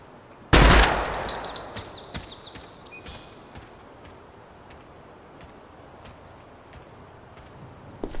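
One loud, sharp gunshot from a 5.56 rifle in the game Project Silverfish, followed by a long decaying tail and scattered small metallic clicks and clinks in a quiet scene.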